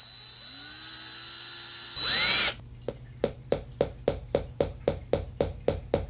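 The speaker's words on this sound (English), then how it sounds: "Got the handy dandy drill." A power drill whirs up in pitch, then bites briefly into plastic with a loud grinding burst, followed by a steady series of regular clicking ratchet-like ticks.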